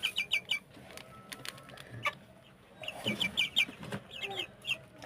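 Sasso chickens, 43 days old, cluck close by in bursts of short repeated calls, with a brief rustle and soft scuffling between the clucks.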